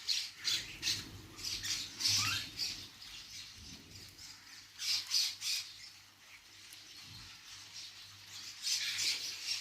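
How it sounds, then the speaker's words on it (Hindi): Crows and mynas pecking at scattered grain squawk and chatter in a busy, overlapping chorus of harsh calls, close by, with faint soft pecking and rustling beneath and no talking. "सारे कौवे भी हैं, मैनाएं भी हैं, ये दाने चुग रहे हैं"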